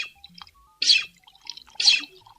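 Water from a repaired hand pump, worked by hand, splashing out in two short bursts separated by brief pauses, close and fairly loud, with small clanks and drips between the gushes.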